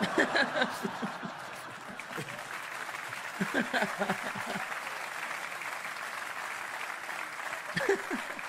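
A comedy show audience applauds, a steady wash of clapping mixed with scattered chuckles and laughter, heard somewhat distant, with talk over it at points.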